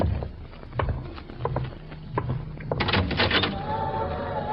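A door opens in a 1948 old-time radio mystery drama: scattered footstep-like knocks and thumps lead to a louder cluster of clattering, rattling hits near the end, then a fading tone, all recorded close.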